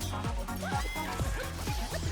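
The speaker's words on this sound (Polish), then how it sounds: "I mamy jakiegoś pieska" Several short electronic-sounding dog barks from the video game Astro Bot, repeated in a bouncy rhythm over loud continuous game music.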